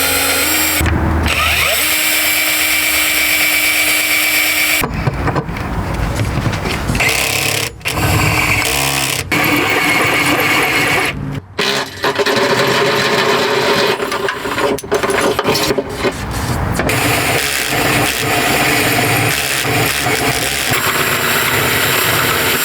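A power drill bores into the metal floor frame of a camper car, a loud, sustained grinding whine with bursts and stalls, speed surges and brief pauses.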